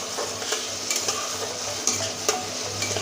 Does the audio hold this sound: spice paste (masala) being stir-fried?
yes